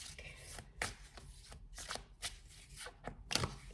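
Tarot cards shuffled and drawn during a card reading: several crisp, close rustling and snapping bursts in a loose, uneven rhythm over a quiet room background.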